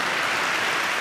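Steady crowd applause fills a hall during Chile's Cuenta Pública presidential address, a dense, even wash of clapping with no voices on top.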